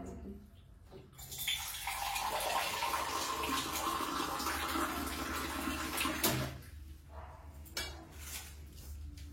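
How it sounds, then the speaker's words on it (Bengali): Spinach greens are rinsed under running tap water, a steady rushing stream for several seconds that then cuts off, leaving softer splashes and drips. "শাকটাকে ভালো করে ধুয়ে নিয়েছি"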